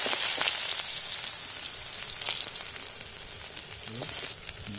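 Onions frying in oil for an onion samosa filling in a village kitchen, giving a steady, moderately loud crackling sizzle with scattered pops throughout, no voices.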